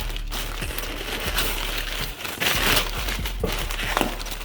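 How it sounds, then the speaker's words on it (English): Packaging around a Kawasaki ZX6R M4 slip-on exhaust is pulled open, with close, steady crinkling and rustling of wrap and a few sharper crackles and thumps, without speech. "So once you unwrap all of this"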